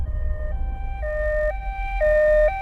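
Ambulance siren wailing in a steady two-tone pattern, alternating pitch about every half second, loud and close over a low rumble, with no voices.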